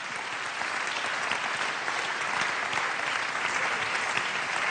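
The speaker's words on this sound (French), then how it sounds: "On peut les applaudir, s'il vous plaît." Steady applause from an audience at the Talents des Cités national award ceremony as a trophy is presented, a dense, even clatter of many hands that fills the room and holds throughout without a break.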